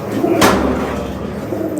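Pigeons coo in a low, steady hum close by, with a brief sharp noise early on.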